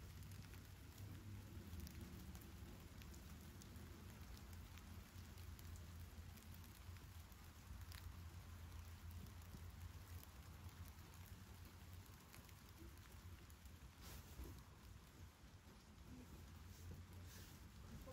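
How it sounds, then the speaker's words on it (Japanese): Steady rain falls outdoors during the rainy season, a dense, continuous patter with faint distant rumbles, heard quietly throughout. "雨降ってきた帰ろう濡れるよ"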